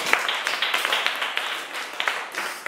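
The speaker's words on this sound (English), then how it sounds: "You clap for the song." Children in a classroom clapping along to a song during a math lesson, a quick, fairly even run of light claps under faint background sound.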